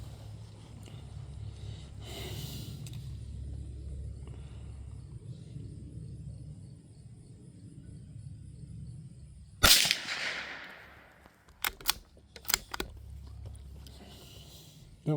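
A Savage Mark II FV-SR .22lr bolt-action rifle fires a sharp shot at an outdoor range after a stretch of low rumble, then several quicker clicks and snaps follow, loud and close.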